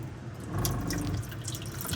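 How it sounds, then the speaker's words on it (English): Tap water runs from a faucet into a deep stainless sink in a truck camper, filling a water bottle with a steady rushing stream that swells after a brief quiet start and continues alone. "I can set my water bottle down, whatever, and just fill it and do other things while that is filling."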